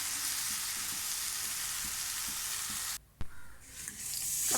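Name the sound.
frying pappadam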